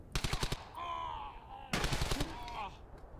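Gunfire in the World War II shooter Brothers in Arms: Hell's Highway: a loud rapid burst of automatic shots at the start, then a second burst midway, with game voices and effects between.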